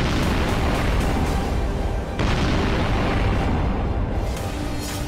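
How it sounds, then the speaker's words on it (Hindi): Bomb explosions from Russian missile strikes in Mariupol, Ukraine: a continuous, loud, dense rumble of blasts with a sharp fresh burst midway, roaring on without pause. "बम धमाके का शोर बढ़ता जा रहा है।"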